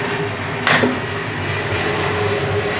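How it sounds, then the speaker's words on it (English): An airplane passes overhead outside an open window, a steady broad rumbling drone that fills the whole stretch at moderate loudness, with a brief brighter whoosh early on and no talking. "airplane."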